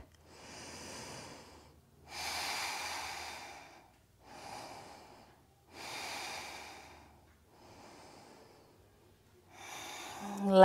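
Heavy, deep breaths during a yoga half moon pose, about five long inhale-exhale swells, close and audible with short pauses between.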